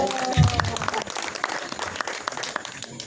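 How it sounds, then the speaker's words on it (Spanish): Applause from an audience at a commemoration of the Atoyac massacre anniversary, a moderate wash of clapping hands with a few crowd voices, steady and fairly close. "Un aplauso para él."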